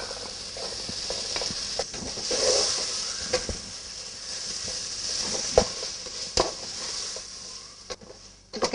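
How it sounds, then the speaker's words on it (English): Capsicum is stirred into pulpy tomatoes in a pan, producing a soft sizzle broken by irregular scrapes and knocks of the spoon, with a louder clatter at the end. "Now once the tomatoes have become really pulpy, add the capsicum."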